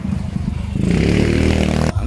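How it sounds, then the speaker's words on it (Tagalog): A motorcycle passes close by: its engine swells loudly after a quieter start, holds a rough, clattering roar for about a second, then cuts off abruptly. "may motor."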